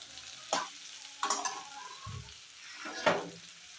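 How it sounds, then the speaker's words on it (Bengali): Tomatoes and spices sizzle in a pan for a rohu fish curry with papaya while a spatula scrapes and stirs in a few distinct strokes, close up with no talking. "দেখো একবারে ভাজা ভাজা হয়ে যাবে"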